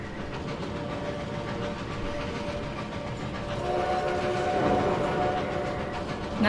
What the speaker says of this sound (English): Nice, we get to see this train.